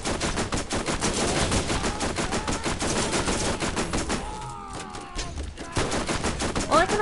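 Turret and rocket launcher fire in the video game Borderlands: a rapid, evenly spaced stream of loud shots that briefly thins out, then resumes toward the end.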